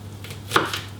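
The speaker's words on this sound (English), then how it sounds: "We're going to finely chop it with a nice sharp knife." An onion being finely chopped with a sharp knife on a board for pumpkin soup, a few soft close knocks with one clearer tap near the middle over a low steady hum.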